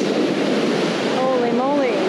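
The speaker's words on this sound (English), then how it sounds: "Wow, that's big waves." Big ocean surf rolling onto a beach during surf fishing, a steady loud broadband wash of breaking waves with wind noise, and a voice speaking briefly over it near the end.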